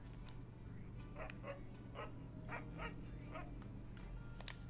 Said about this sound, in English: Calm the dog.